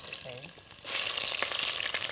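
Onions dropped into heated cooking oil, starting with a soft stir before a sudden loud, steady sizzle and crackle that holds close and bright to the end; a brief voice-like tone sounds early on.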